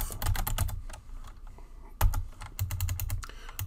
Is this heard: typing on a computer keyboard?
yes